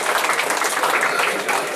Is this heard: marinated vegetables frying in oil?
no